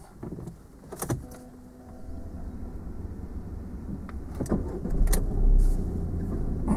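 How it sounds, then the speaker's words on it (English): A car engine is switched on during a driving lesson, a few clicks and a turning crank followed by a low, steady idling rumble close by, with no talk. "So I'll switch on the engine now."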